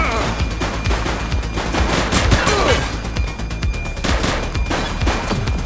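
Close, sustained automatic gunfire during a police shootout in the game The Precinct. The shots form a continuous loud barrage of rapid cracks for the whole stretch.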